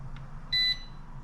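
Tucok 012S drone gives a single short electronic beep while being calibrated, clear and fairly close over a low background hum.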